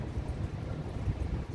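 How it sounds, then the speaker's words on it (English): Wind buffets and rumbles steadily outdoors on a boat in Bangkok, a close, continuous low roar with gusty swells and no voices. "It's a bit windy."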